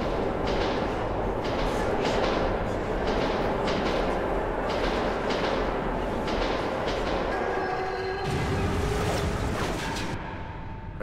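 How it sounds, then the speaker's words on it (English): A ghost train roaring through a tunnel in Metro 2033 Redux, a continuous loud rumble with rhythmic wheel clatter and metallic screeching tones rising toward the end. "Ghost train."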